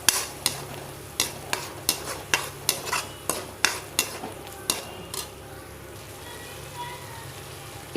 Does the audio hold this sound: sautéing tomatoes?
yes